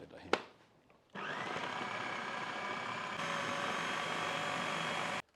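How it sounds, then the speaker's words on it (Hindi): An electric chopper whirs into life after a sharp click and runs loud and steady, chopping a kilogram of roughly cut onions, its pitch stepping up slightly midway before it cuts off. "बड़ा बड़ा काट लिया और इसको चॉप कर लेंगे"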